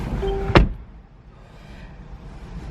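A single firm car door thump on a 2018 Mercedes-AMG E 63 S 4MATIC, sharp and close, followed by a quiet, muffled cabin hush.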